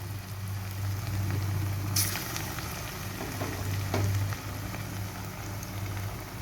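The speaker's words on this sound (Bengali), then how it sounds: "অল্প অল্প করে এগুলোকে সব ভেজে নেব" Potol kopta, pointed gourd dumplings, fry in a pan of oil with a continuous soft sizzle, broken by a few sharper crackles and light clinks close by.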